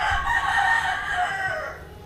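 A rooster crows once, a long drawn-out call that rises and fades, with a faint low cluck underneath.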